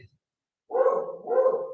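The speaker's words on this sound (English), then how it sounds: "My dog is barking at cats again." A dog barks twice at cats, two close, full woofs about half a second apart after a brief quiet pause.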